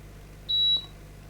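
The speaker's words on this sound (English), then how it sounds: "So the meter is still in diode mode and let's see." A multimeter set to diode mode gives a single short, clear electronic beep while a CC line on a Samsung A16 phone is checked. The beep sounds over a faint, steady background hum.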